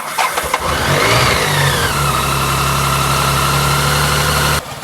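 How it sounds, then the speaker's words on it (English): A BMW K75/K100 motorcycle that has sat unused for two months starts on a hot day, a brief starter whir catching into a loud, steady idle with a slight rising rev, close up. "I now need to start it up and make sure the clutch biting point is in the correct place."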